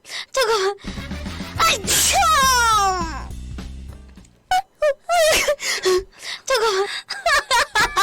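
Several sharp, explosive sneezes from a young woman, interspersed with whimpering, moaning vocal sounds and gasps, loud and close, with a few quick bursts clustered near the end.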